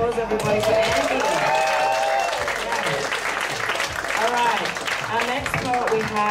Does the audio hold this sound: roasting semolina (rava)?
no